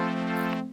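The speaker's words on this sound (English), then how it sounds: "if you have a low amount of cutoff and a lot of envelope, you can create some cool sounds like this." A single sustained note from a virtual analog synthesizer with a low filter cutoff and heavy envelope amount. The tone is bright and buzzy and sweeps audibly, then fades over under a second, with no voice.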